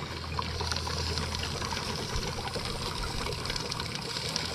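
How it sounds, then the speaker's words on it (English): Water draining out of home swimming pool equipment, a steady soft trickling and splashing flow held at a constant level throughout, fairly quiet, with no voices. "let's drain the water out of this thing"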